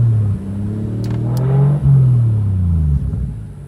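A 1JZ engine in a Fox Body with a nitrous install holds a steady rev around 2,500 RPM, a close, loud, throaty rumble with slight dips and swells and no voices.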